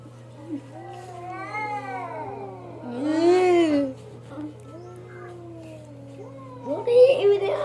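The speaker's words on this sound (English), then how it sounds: "They've been meowing for hours." Several cats yowl and meow in long rising and falling wails during a fight, with a louder cluster of cries midway and another burst at the end, a steady low hum underneath.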